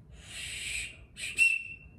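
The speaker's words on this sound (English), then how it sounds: "Is this a dog whistle?" Two short, breathy, high whistle blasts sound up close, the second ending in a sharper piercing tone, with near silence around them.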